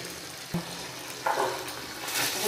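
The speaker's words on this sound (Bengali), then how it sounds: "সুন্দর করে মশলাটা কিছুক্ষণ কষিয়ে নেব।" A ground paste of ginger, green chilli, onion and garlic with salt, turmeric, cumin and coriander powder fries in oil, giving a steady close sizzle with a couple of stirring scrapes.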